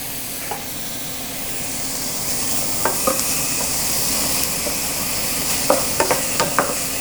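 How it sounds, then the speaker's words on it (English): Garlic dropped into a pan of frying cabbage and stirred, giving a steady close sizzle and hiss with scattered clinks and scrapes of a utensil against the pan, no talking. "next I'm going to add some garlic, my garlic"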